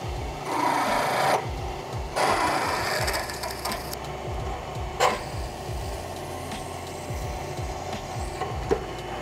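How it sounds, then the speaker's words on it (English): A steady metal-cutting drone as a half-inch reamer opens a drilled hole in a bicycle frame part, with scraping, grinding texture, continuous for several seconds, with a few brief sharper clanks near the end. "and then a 1/2 inch reamer."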